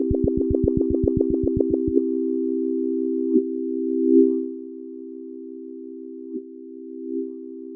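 A steady synthesizer tone with LFO rise modulation: a fast, regular pulsing throb at the start that gives way to a sustained, even tone with a few soft bumps, heard alone with no talk.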